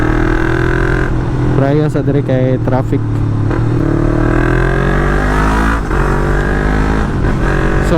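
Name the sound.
Yamaha MT-03 motorcycle revving to 7,000 RPM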